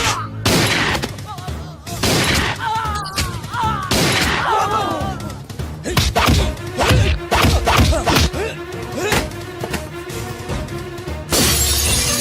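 Gunfire in a Telugu comedy film scene, a rapid volley of sharp cracks and shattering impacts over music and effects, loud and dense through most of the scene with a brief pause before a final burst.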